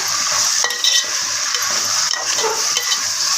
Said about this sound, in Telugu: ఇప్పుడు బాగా కలపాలి.